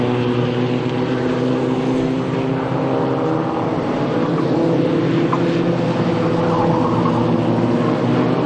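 Formula Vee race car lapping the Mondello Park circuit, a steady, loud, droning engine note held on the straight with slight pitch changes, no talk over it.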